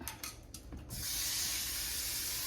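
Tap water rushes steadily into a pan at a kitchen sink as it is rinsed out after cooking, following a few brief clinks; the running water stays loud and even.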